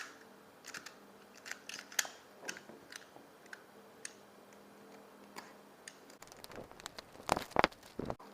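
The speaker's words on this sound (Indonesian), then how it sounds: "Kita unboxing dulu ya." Packaging of TWS i4 Bluetooth earbuds being opened by hand, with scattered crisp clicks, snips and crinkles of cardboard and plastic, close and quiet, growing busier toward the end.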